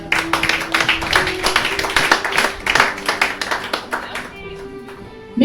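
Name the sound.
church congregation clapping in acclamation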